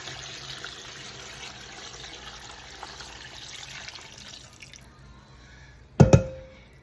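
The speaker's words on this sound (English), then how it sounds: "Pour your broth in." Broth for oxtail soup trickling into a pan, a steady faint pouring wash for several seconds that stops, followed by a sharp clattering knock near the end.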